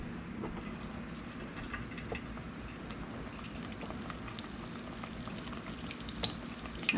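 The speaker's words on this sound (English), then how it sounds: "I will listen to those fry just a second." Homemade donuts fry in a pot of hot oil with a steady, soft crackling sizzle and scattered tiny pops, fairly quiet and close, continuing without any voices.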